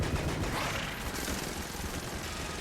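Airstrike explosions and gunfire in the video game Enter the Gungeon make a dense, continuous barrage of rapid shots and blasts, loud and close, with no pause throughout.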